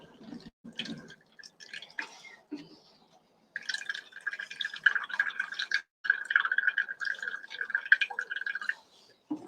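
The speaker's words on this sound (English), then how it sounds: "I'm just going to press some of the water, the buttermilk out." Buttermilk drips and trickles from fresh homemade butter as it is pressed by hand in a kitchen, a run of wet splashing and dripping sounds broken by short pauses, close and fairly quiet.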